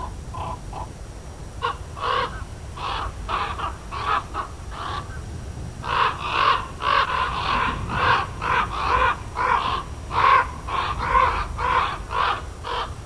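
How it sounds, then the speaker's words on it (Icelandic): A common raven calls near its cliff nest in Skaftafell National Park, Iceland: a run of hoarse, repeated croaking caws in steady rhythm, clear and fairly close, with no other voices. "Krummi lætur illa við hreiðrið og reynir að henda lausu grjóti á þá sem hjá ganga."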